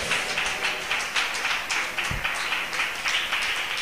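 Church congregation clapping hands in praise, a steady wash of many palms beating in loose rhythm, fairly close and continuous, with no speech over it.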